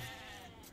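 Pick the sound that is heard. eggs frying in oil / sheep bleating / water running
sheep bleating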